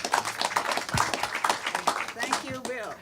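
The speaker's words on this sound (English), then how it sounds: "give yourselves a round of applause for coming today and listening to this great panel" A small audience at a panel talk gives a brief, scattered round of applause. The claps are uneven and close by, mixed with voices and room noise.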